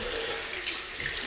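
Tap water runs steadily into a bathroom sink while a razor is rinsed during a shave with spearmint shaving cream, a close continuous splashing rush over a brief moment.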